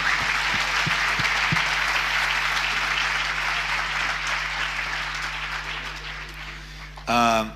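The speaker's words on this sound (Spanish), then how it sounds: "Démosle otro aplauso al Rey bendito." A church congregation applauds during an apostolic question-and-answer panel, a broad sustained round of clapping with a steady hum beneath, fading slowly before a brief loud burst at the end.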